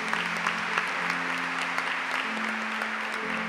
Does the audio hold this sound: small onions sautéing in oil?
no